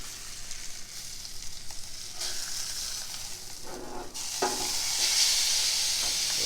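Steady sizzling of a steak on a Pit Boss grill just after it is flipped, a continuous hiss that swells louder near the end.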